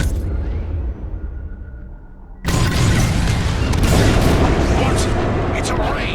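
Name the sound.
bombs exploding in Star Wars Squadrons video game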